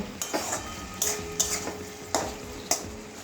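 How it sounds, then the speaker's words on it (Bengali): Okra is stir-fried with coriander leaves in a pan: a soft sizzle is broken by several sharp scrapes and clinks of a spatula against the metal pan at uneven intervals. "আবারও একটু কষিয়ে নেব ধনে পাতা দিয়ে"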